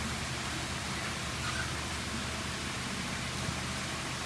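Steady, dense rain falls around a partly built Quonset hut shop, a constant close hiss with no breaks and no voices.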